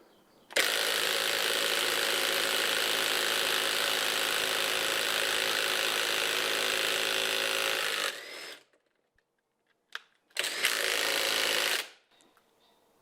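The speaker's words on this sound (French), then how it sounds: "Je remets la douille en direct sur l'embout de la boulonneuse." Ryobi impact wrench with the socket fitted straight onto its anvil, hammering loud and close in a long continuous rattle of about eight seconds, then after a short pause a second burst of about two seconds.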